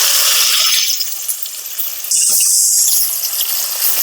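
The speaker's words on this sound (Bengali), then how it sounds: "পেঁয়াজ, আদা, রসুন যেগুলো আমি বেটে নিয়েছিলাম সেটাও আমি তেলের মধ্যে দিয়ে দেব ফ্রাই হতে।" Ground onion, ginger and garlic paste hits hot oil in a pan, bursting into a loud hiss that dips briefly and surges again, a bright steady sizzle with no voices.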